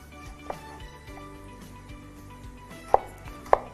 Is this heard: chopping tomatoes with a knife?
yes